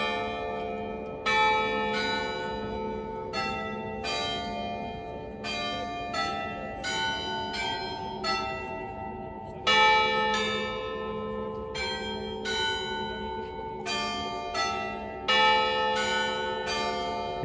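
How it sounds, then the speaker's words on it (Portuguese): Catholic church bells ring in Fátima, Portugal, a steady sequence of loud, clear strikes repeating every second or so, with long overlapping resonant tails and no talking over them. "Nesse momento tá tocando sino, né? Como toda igreja católica tem sinos."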